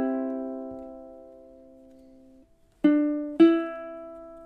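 A ukulele plays measure 16 of a song: one long sustained chord decays slowly, then two bright plucked notes ring out, close and solo.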